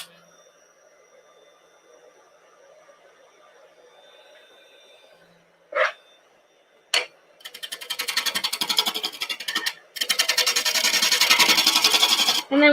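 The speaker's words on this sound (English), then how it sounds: "I'm going to stick to the roughing gouge initially" A roughing gouge shaping wood on a lathe during a live turning demo, heard as loud, continuous broadband rasping that starts after a few sharp knocks, breaks off briefly, then resumes steadily to the end.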